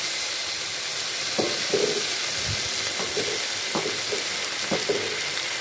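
Rice being stirred in a pan with sautéed capsicum, onion and tomato, a steady hiss of frying under repeated spoon scrapes and light knocks against the pan, close by.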